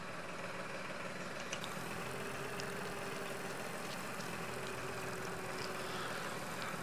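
A small orchard tractor engine in the farming game Farm Expert 2017 idles in a steady, faint low drone with no talking over it.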